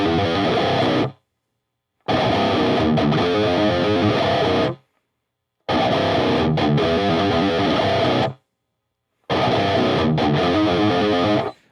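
A verse riff on a heavily distorted electric guitar, played slowly in four separate repetitions with short silent gaps between them, loud and chugging.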